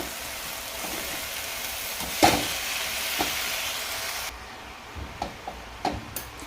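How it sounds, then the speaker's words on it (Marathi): Vegetables sautéed and stirred in a pan, a soft continuous sizzle with a few sharp clacks of a spoon against the metal; the sizzle drops away midway, leaving scattered stirring taps. "मी आता परतून घेते"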